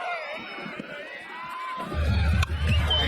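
Home crowd at a cricket stadium during a tense finale, a broad roar of distant cheering and shouting that swells louder partway through.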